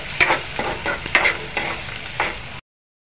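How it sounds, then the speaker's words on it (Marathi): Onion and curry leaves fry in hot oil, giving a steady close sizzle broken by a few stirring scrapes in the pan before the sound cuts off. "तेल तापल्यानंतर कढीपत्ता घाला, नंतर कांदा"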